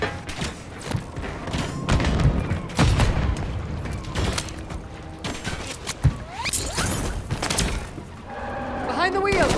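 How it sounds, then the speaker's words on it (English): Enemy gunfire in a Call of Duty match, bursts of shots and heavy thuds mixed with booms and mechanical clatter, dense and loud throughout as game voices shout over the combat. "There's enemy fire!"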